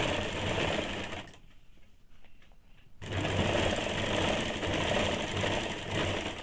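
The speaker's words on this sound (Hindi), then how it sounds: "सीधे के तरफ से एक दाग पे इसको सिलाई चला लेंगे" Sewing machine running a single line of stitching along the side seam of a high-neck blouse, a fast, even mechanical whir that stops briefly for about two seconds and then resumes, fairly quiet.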